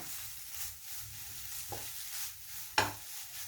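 Egg frying on high flame in a pan for egg tawa pulao: a faint, steady sizzle with a couple of short scraping clicks from stirring.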